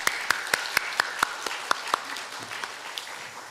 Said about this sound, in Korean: 우리 할렐루야 성가대를 통해 영광 받으시는 주님께 감사의 박수 올려드리겠습니다.